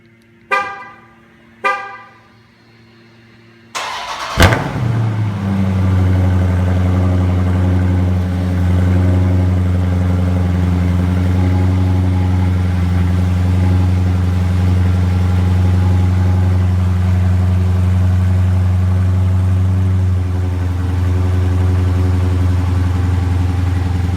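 A Plum Crazy Dodge Charger Scat Pack after sitting a week: a couple of short beeps, then the cold start as the engine catches with a burst and settles into a loud, steady, deep idle that holds.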